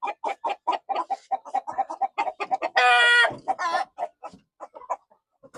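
White Silkie chickens cluck in quick, repeated bursts close by in a backyard farm, broken by one loud sustained squawk midway, then scattered softer clucks toward the end.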